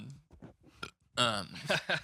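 A loud, close burp goes into a microphone during a podcast-style conversation, a drawn-out croaking belch following some quieter speech.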